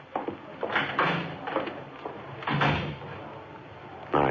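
A side door opening and closing in an old-time radio police drama, heard as a few muffled clunks and thuds close by over a steady, noisy background.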